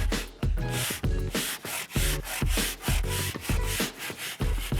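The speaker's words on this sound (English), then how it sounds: "So we'll give this a little scrub." Steady back-and-forth scrubbing of EVA foam boat decking with a cleaner, close and rhythmic, about ten brisk strokes in quick succession with short pauses between them.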